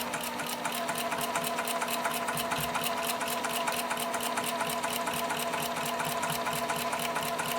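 Sewing machine stitching slowly in the ditch along the seam lines of a quilt block, a steady even run of fast needle strokes throughout with no talk.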